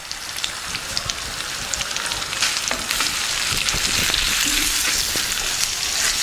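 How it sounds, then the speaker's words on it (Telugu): Onion pieces sizzle steadily in a pan with turmeric and salt, a loud, dense frying hiss like rain that holds throughout with faint crackles and no talking. "ఉల్లిపాయ ముక్కలు మగ్గడానికి ఒక 2 నిమిషాలు టైం పడుతుంది."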